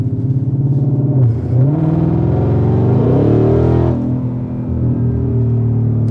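A Ford Shelby GT500 with a loud aftermarket exhaust revs up and settles, a deep rumbling idle swelling into a throaty climb and then falling back, close and powerful, with no talk over it.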